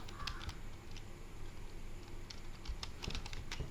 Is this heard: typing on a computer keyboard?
yes